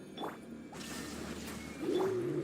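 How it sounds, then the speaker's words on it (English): A cooing, dove-like bird call from the video game Genshin Impact, faint and brief early on, then a clearer warbling call near the end over a soft ambient game backdrop. "The bird call."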